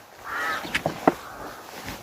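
Ravens caw near a pigeon loft: a few short, harsh calls close together in the middle, over a faint background of other birds.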